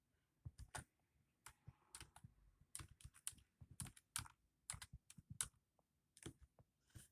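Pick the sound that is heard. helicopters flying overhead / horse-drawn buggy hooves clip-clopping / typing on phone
typing on phone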